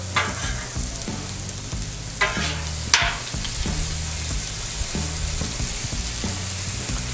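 Sliced beef frying on a 36-inch Blackstone griddle gives a continuous loud sizzle, with a few spatula scrapes and clanks as the meat is flipped.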